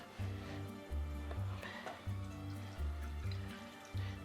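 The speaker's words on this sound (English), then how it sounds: "So I have my milk that I'll pour in." Milk pours steadily into a pot, a soft continuous gurgling fill over a faint rhythmic low hum.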